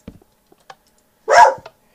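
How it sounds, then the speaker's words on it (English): Hooch, a pet dog in the room, gives one loud, close bark, with a few faint soft clicks before and after it. "You can hear him bark."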